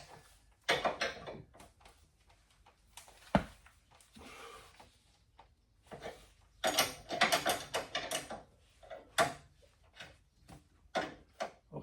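A wrench ratchets lock nuts down on the torsion bars of a VW Super Beetle chassis, giving irregular clusters of close metallic clicks and clanks separated by short pauses, with no talk.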